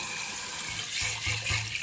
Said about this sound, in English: Plonk it in the sink, pour water,